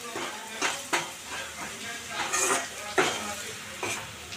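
A spoon stirring chili powder into hot oil in a pan, with a soft sizzle throughout and repeated scraping strokes and light metallic clinks at an irregular pace.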